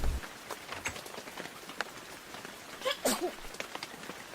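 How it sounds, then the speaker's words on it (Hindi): In a children's cartoon, light rain patters steadily on a surface, with a few brighter splashy drops and a brief higher sound cutting in midway, all fairly soft. "क्या ये बारिश कभी बंद नहीं होगी?"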